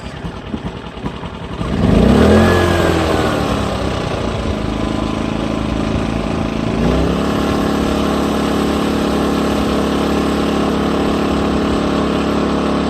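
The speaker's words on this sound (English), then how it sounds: "turn on the generator, pull the choke out, start the generator." A Sportsman 2200 generator running on propane starts up after a pull-start, then settles into a loud, steady, close hum that continues alone to the end.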